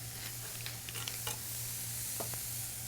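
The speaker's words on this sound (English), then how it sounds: "Now that you can hear the pans building up some heat" Hot pan sizzling on a stovetop during cooking, a steady broadband hiss with a low hum beneath and scattered crackles and scrapes of stirring, fairly quiet and without talk.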